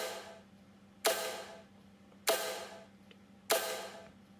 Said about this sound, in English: So the first one is a second snare loop that sounds like this.